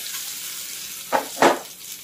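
A pan of fish fries with a soft steady sizzle, broken by two brief louder bursts of spattering close by, with no voices.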